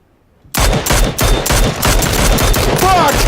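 Rapid automatic gunfire from the video game PUBG, a dense loud burst of shots starting abruptly and continuing throughout, with a brief voice exclamation near the end.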